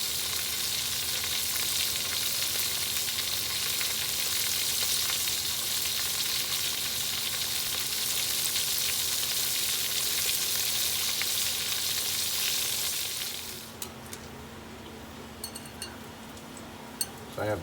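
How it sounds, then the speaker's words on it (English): Coated pieces of shark meat shallow-fry in oil with a loud, dense crackling sizzle close by. The sizzle drops sharply after about thirteen seconds to quieter frying with a few light clinks. "I'm kind of doing a shallow fry."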